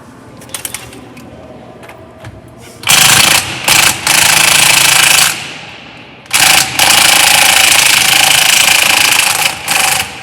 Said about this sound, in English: Or an impact wrench, I'm sorry.